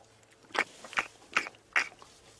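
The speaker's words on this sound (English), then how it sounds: "And you might be able to hear the sort of chewing." A wild elephant on an evening safari drive chewing food: four loud, crunching bites at a steady, roughly even rhythm, close and clear over a quiet background with no talk.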